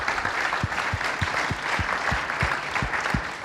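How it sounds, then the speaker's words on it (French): A crowd at a national awards ceremony for the Groupama Pro Trophy applauds loudly, with dense clapping and a strong, regular low thump roughly every half second, like rhythmic clapping or stamping in unison. "Oui, tiens, applaudissons-nous."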